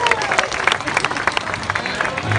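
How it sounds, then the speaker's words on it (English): A crowd at a live street-style performance applauds and cheers steadily for a young performer, dense clapping filling the scene with a few whoops and a voice briefly over it. "Give Addison a big cheer."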